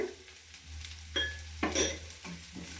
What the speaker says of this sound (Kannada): ಅದನ್ನು ಚೆನ್ನಾಗಿ ಫ್ರೈ ಮಾಡ್ಕೊಳ್ಳೋಣ